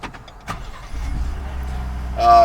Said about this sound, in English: you do have remote start on this truck